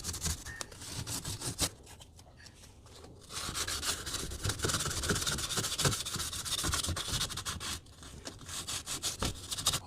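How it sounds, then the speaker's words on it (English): A drywall patch being sanded by hand, a close, continuous rasping scrub with rhythmic back-and-forth strokes and brief pauses, heard alone without talk. "I sand it."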